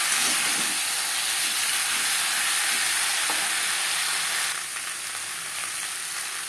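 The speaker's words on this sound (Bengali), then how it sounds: "আলুর সাথে আদা ও কাঁচা লঙ্কা বাটা বেশ ভালো করে মিক্স করে দেব" Potatoes sizzle and fry in hot oil in a pan with ginger and green chili paste, a steady loud hiss while being stirred, easing slightly toward the end, with no talking.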